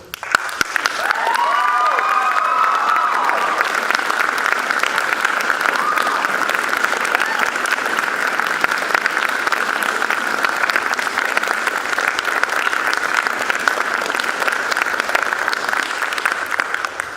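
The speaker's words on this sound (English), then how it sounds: "I'm sure the kids would love to give you a round of applause." Theatre audience at a Frankenstein performance applauding loudly and continuously, dense clapping with children's excited cheers and whoops rising early on, sustained throughout.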